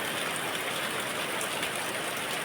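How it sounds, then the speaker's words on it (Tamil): Heavy rain pours down without letup in Kanyakumari, a dense, even hiss that fills the whole stretch with no voices or other sounds. "சரியான மழை பெய்துட்டே இருக்குது"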